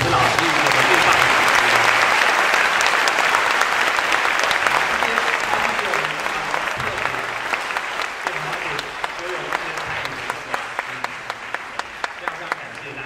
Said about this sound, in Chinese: 那我们再次用最热烈的掌声来谢谢今天所有的指挥老师